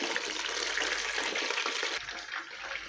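Chicken pieces fry in a pan for biryani, giving a steady, dense sizzle and crackle throughout with slight stirring noises and no talking.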